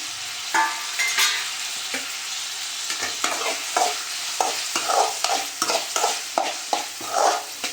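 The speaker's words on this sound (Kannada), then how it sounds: "ಇವಾಗ ಟೊಮೆಟೊ ಹಣ್ಣು ಹಾಕ್ಕೊಂಡು ಅದನ್ನ ಸ್ವಲ್ಪ ಫ್ರೈ ಮಾಡ್ಕೊಳ್ಳೋಣ" Onion and tomato fry in a pan while a utensil stirs and scrapes in brisk, repeated strokes over a constant loud sizzle, up close with no voices.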